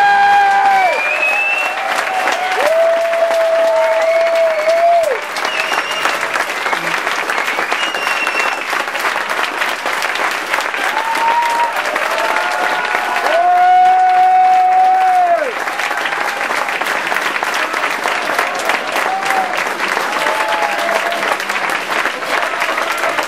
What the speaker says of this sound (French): j'aimerais que vous applaudissiez fortement une des organisatrices qui nous fait l'honneur d'être avec nous ce soir, Madame Brigitte Henquin.